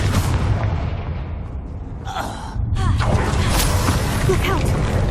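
A Confringo fire-blast spell bursts in Hogwarts Legacy combat, a loud booming explosion with a crackling burst, followed by sustained rumbling battle noise and effects.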